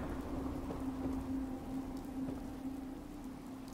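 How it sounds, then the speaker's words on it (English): Steady rain falls in Fallout 4, a soft continuous patter with a low hum underneath, fairly quiet and alone without any voices. "I wish this rain would go away."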